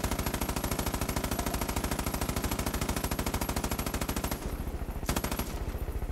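A rapid automatic weapon fires in Far Cry New Dawn, a loud, steady, evenly spaced burst that runs almost without pause, broken by one short gap near the end before the firing goes on.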